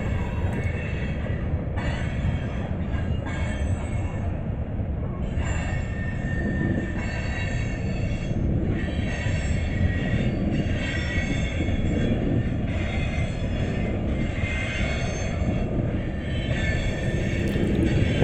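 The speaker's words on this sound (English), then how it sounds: "this train is coming off of track one, and he has to go through a switch" A heavy freight train rumbles steadily past at close range through a junction curve and switch at Callahan Junction, with metallic wheel squeals and screeches rising over the continuous rolling noise of the cars.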